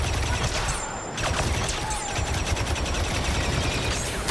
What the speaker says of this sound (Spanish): Tiene un rifle de disparo automático.